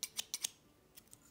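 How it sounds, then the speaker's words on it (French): A pair of small scissors from an advent calendar snaps open and shut four times in quick, crisp clicks, followed by two fainter taps, close and alone. "Donc, une paire de ciseaux."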